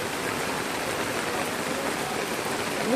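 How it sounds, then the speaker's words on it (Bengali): Heavy monsoon downpour pours down steadily beside a pond with floodwater nearly reaching the road, a dense, even hiss of water filling the scene from start to finish with no voices. "যেভাবে মুষলধারে বৃষ্টি হচ্ছে"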